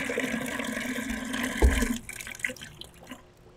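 Water pours from a water rig tap into a glass for about two seconds, then stops, leaving a few faint drips and clinks.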